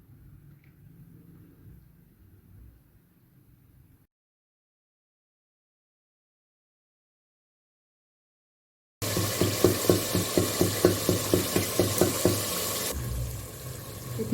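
Kasuri methi being roasted into matar pulao with chicken curry in a pan, giving loud, close frying and stirring noise with a steady pulsing rhythm after a quiet, low start and a long silent gap.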